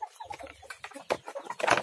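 Speckled bearded chickens cluck and murmur softly nearby in a short, irregular string of low calls, ending with a slightly louder, sharper squawk.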